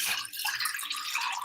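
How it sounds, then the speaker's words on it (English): Water pours steadily from a cup into a cooking pot in a home kitchen, a continuous close splashing trickle with no talking. "So I'm going to use a cup of water."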